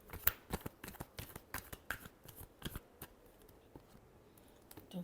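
A tarot deck shuffled one last time before a reading: a soft, quiet flurry of close papery flicks and taps for a few seconds that thins out into sparse ticks, with no voices.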